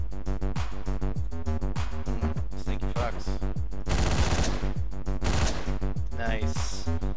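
Gunfire in the top-down action game Hotline Miami, quick shots and bursts over a constant pulsing synth soundtrack, with a denser burst in the middle of the stretch.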